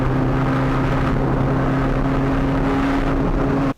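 A Honda Civic EG on coilovers runs at speed on a race track, its engine droning loud and steady under wind and road noise before cutting off sharply at the end.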